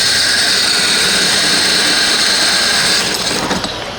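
A steady, loud mechanical whine of a core drill boring a hole through glass, continuous and close, easing off slightly near the end.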